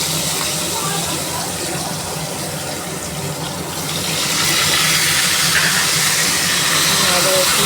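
Chopped onion sizzles in a hot pan, a steady dense hiss that grows a little louder partway through, with no talking over it.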